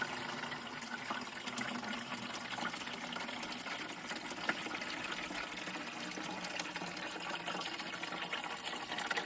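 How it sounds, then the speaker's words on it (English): Tap water runs steadily into a worm bin, a constant close splashing hiss that holds evenly from start to finish, with no one talking. "Let's just turn the tap on here."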